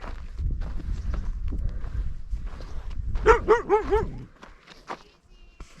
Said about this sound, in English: oh my goodness, there's a dog.